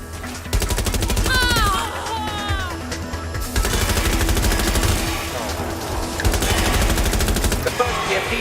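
Automatic gunfire rattles almost continuously through Watch Dogs Legion combat, loud and dense bursts over game effects and music, with brief electronic chirps early on.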